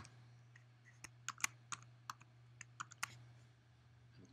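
A computer keyboard is tapped to enter a password, sparse quiet keystrokes clicking irregularly over a steady low hum, close but faint, with no talking.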